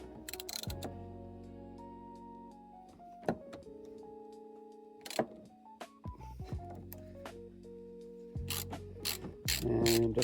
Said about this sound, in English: I'm going to use this 22 millimeter socket